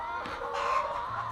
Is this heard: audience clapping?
no